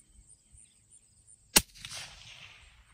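A single suppressed shot from a 7.62 rifle firing 12-hour-soaked ammunition rings out sharp and close, followed by a decaying hiss and rumble over quiet outdoor background.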